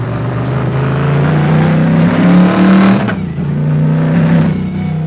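A modded racing-game car engine on a 1967 Nords track drones loudly and steadily, its pitch climbing as revs build, then dropping sharply with a gear change before rising again, with no talk over it.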